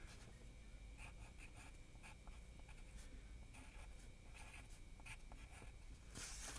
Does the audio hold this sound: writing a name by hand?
yes